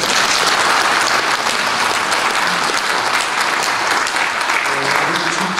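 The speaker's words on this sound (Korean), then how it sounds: "박수 한번 쳐주시기 바랍니다" A large audience of about 500 claps steadily at a forum association's founding ceremony, dense applause filling the hall at an even level throughout with no break.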